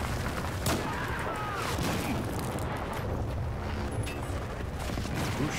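Battlefield 4 gunfire in a dense, continuous battle din, with heavy booms and bursts of shots packed together at steady loudness throughout, sounding close and chaotic.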